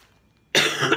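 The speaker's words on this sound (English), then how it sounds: "still under the weather and still coughing like crazy" A person who is ill gives a single sudden, loud, rough cough close by, cutting in after half a second of near silence.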